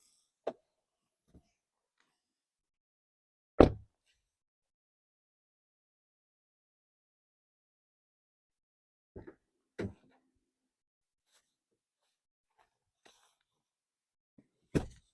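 Scattered sharp clunks and thumps with long quiet gaps between them as the rear seat latches release and seatbacks drop inside a 2025 Hyundai Ioniq 6.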